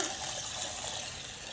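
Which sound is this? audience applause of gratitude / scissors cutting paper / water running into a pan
water running into a pan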